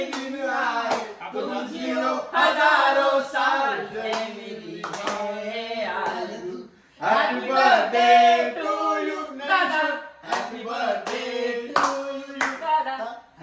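People clap at a birthday celebration, with quick hand claps under loud voices singing or chanting together, which dominate most of the stretch with a short pause midway.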